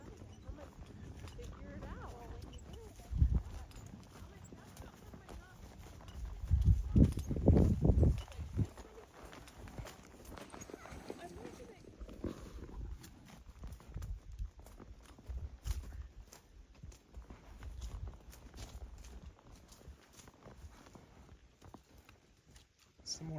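Two horses, Glade and Duke, are ridden across desert ground, their hooves clip-clopping unevenly at a walk, fairly close but soft under wind and scattered talk, with a louder burst of hoofbeats partway through.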